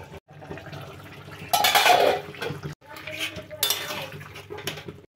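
Cooking pot with potatoes on a low flame, lid lifted off and the pot removed, close metallic clanks and scrapes in two bursts over soft bubbling, with faint voice.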